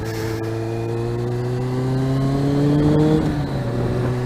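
A Kawasaki ZX-6R with an inline-four 600 cc engine revving up steadily, its pitch climbing in a smooth loud whine before easing back, heard up close.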